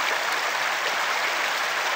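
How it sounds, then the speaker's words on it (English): Water from a babbling brook flows steadily at a river, a close, constant rushing and gurgling wash with no voices. "just listening to the water, watching the babbling brook go by."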